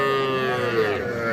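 A small bull or heifer calf at a cattle market gives one loud, close, drawn-out moo lasting over a second, with faint crowd noise behind it.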